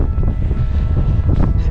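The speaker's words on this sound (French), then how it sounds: "Il y a le vent qui est arrivé." Strong wind buffets the microphone on a mountain ski tour, a loud continuous low rumble with gusty swells and no voices.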